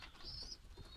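Pigeons in a loft give a soft, low coo, faint and close, with a thin high bird note and light rustling.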